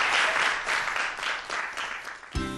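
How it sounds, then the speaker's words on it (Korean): Audience applause at a talk on secondary batteries, a steady crowd clapping throughout that ends with a brief low thump. "여러분들 큰 박수 부탁드리겠습니다"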